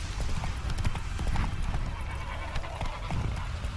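Roach the horse gallops in The Witcher 3, with a steady, fast drumming of hooves close by, a short whinny mixed in and faint game ambience underneath.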